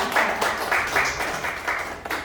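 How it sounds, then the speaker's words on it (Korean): A church congregation applauds briefly during a Sunday service, giving a moderately loud patter of clapping with a few pulsing swells that lasts only a couple of seconds. "박수 한번 보내주시죠."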